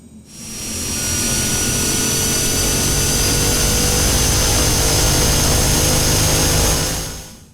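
Cessna 208B Grand Caravan turboprop engine at low idle in the X-Plane 11 flight simulator, a steady, loud turbine whine with a constant high tone that fades in, holds evenly and then fades out.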